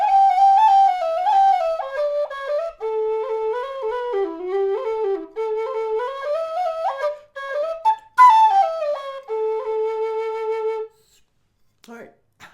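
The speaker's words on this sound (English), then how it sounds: "just the second bit of the Little Beggarman hornpipe, as I sometimes do, so that you could hear some of the responsiveness of the whistle" A Clover Flutes low D whistle plays the second part of the Little Beggarman hornpipe, a breathy, mellow melody of quick ornamented notes in a lively dance rhythm, close and solo, ending in brief silence with faint handling sounds.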